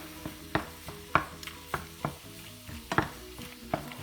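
Cheese sauce is stirred into dry cooked pasta for three-cheese macaroni, making a wet, squelching scrape with a spoon in irregular strokes about once every half second, close and alone.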